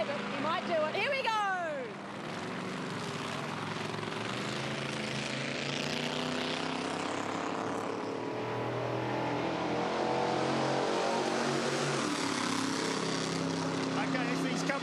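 A 1,000-horsepower JCB GT backhoe revs at the 2014 Bathurst 1000. A loud, sustained engine roar with a rising and falling drone fills the whole stretch, with voices mixed underneath.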